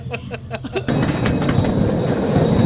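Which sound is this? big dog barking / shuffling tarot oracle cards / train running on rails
train running on rails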